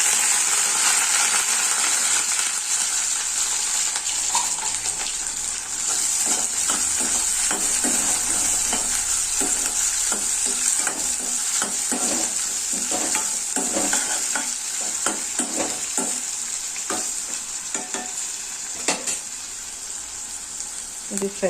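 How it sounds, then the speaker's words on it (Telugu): Onion, curry leaves, chana dal, cumin and mustard seeds fry steadily in a ladleful of hot oil for the Telugu dish seema chintakaya fry, a continuous close sizzle broken by repeated scrapes and clacks of a stirring spoon. "మంచిగా ఫ్రై అవుతుందండి"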